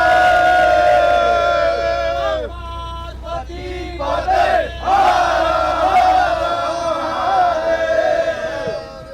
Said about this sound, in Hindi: आप लोग कितने उत्साहित हैं ये आपकी तालियों से और हर हर महादेव के